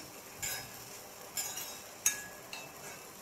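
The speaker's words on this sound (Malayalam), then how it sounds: "നന്നായി ഒന്ന് ഇളക്കി കൊടുക്കാം." Metal spoon scraping and clinking against a pan while spicy potato fry is stirred, four quiet, close taps spaced about a second apart over a soft background.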